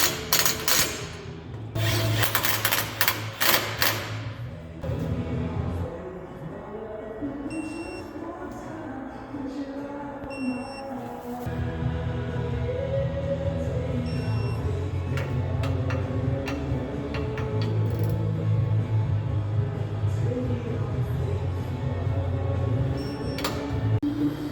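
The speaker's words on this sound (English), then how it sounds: "now it's time to reassemble everything, and we got to torque these to spec" Torque wrench work on Jeep Wrangler ball joint bolts: repeated ratcheting ticks and a few sharp clicks, with rubbing and metallic handling in between, close up and moderately loud.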